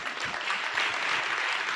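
A congregation at a sermon claps briskly and steadily, a dense wash of applause at moderate level with no break.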